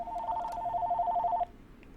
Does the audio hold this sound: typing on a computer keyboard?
no